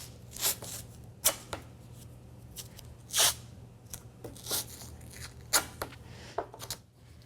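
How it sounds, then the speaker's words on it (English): Athletic tape torn into strips for an elbow tape job, a series of sharp ripping and crinkling bursts at irregular intervals, close but fairly soft over a low steady hum. "what I'm going to do is measure off 3 strips of tape"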